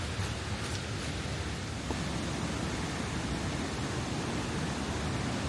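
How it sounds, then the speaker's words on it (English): Steady broadband roar of the Nunobiki waterfall in Kobe, Japan, heard from a hiking trail above the falls, constant and unbroken with no voices. "now we're above the waterfall we were at. I can hear it, but I don't see it"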